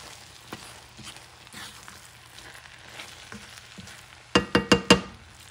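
Creole-style jambalaya stirred in a pot over heat turned down near low, giving a soft steady sizzle with light scraping, then four loud close knocks or scrapes of the spoon against the pot near the end.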